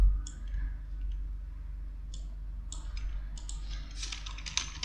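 Typing on a computer keyboard to enter a login username, scattered light key clicks in short bursts over a low steady hum, growing quicker and denser toward the end.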